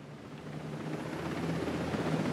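A helicopter in the video game Ghost Recon Breakpoint gives off a low, steady rotor drone that swells slightly toward the end, faint and alone with no talk.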